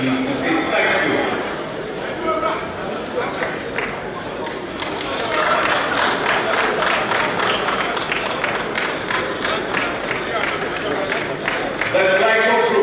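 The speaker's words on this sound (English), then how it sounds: "The Glyco Group, a lot of applause for them too." Audience applause at a symposium and book launch, a steady dense wash of clapping hands lasting throughout, swelling midway and mixed with crowd noise and a voice speaking over it.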